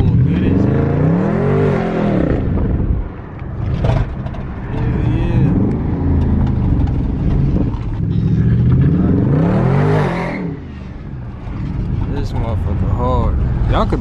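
A Chrysler 300 with a Scat Pack engine swap and loud exhaust revs and pulls hard in bursts, its deep exhaust roar rising and falling over several seconds, with someone talking over it from inside the car.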